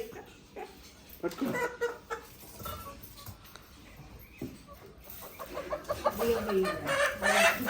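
Village chickens cluck in scattered bursts close by, with a rooster among them, while people talk intermittently in the background.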